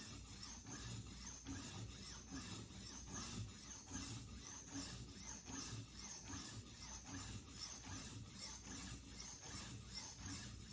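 Repeated rhythmic rasping strokes of a knife blade worked back and forth on a coarse sharpening stone, concentrating near the tip, steady and close with no talking.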